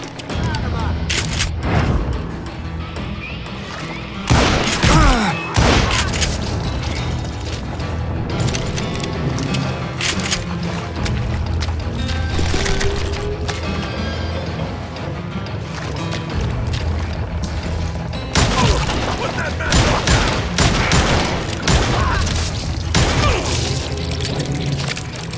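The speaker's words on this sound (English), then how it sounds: "a fusillade of bullets come raining down from on high" A fusillade of gunfire in the Western shooter Call of Juarez: Gunslinger, with repeated sharp shots and booms clustered in loud bursts over a constant noisy game backdrop, while a voice talks throughout.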